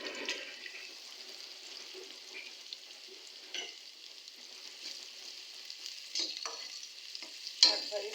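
Cumin seeds sizzle in hot oil for fried Malabar spinach, a soft steady hiss broken by a few stirring scrapes and sharper spatters near the end, with no speech.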